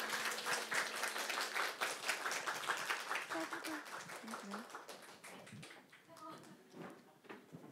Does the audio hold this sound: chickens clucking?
no